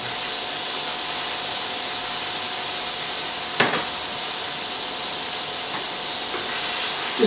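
Fish and capers searing in a hot pan with vinegar sizzle and splatter in a loud, steady hiss, close up, with one sharp crackle midway and no talking.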